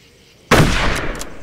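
A single loud shot from an old rifle in the Darkest of Days first-person shooter, an abrupt close crack followed by a decaying, echoing boom.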